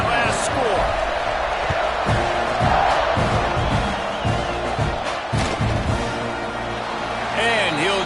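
Dense stadium crowd at a Texas A&M versus Texas Tech football game, a loud continuous roar with scattered shouts and whoops, steady throughout with an announcer talking over it.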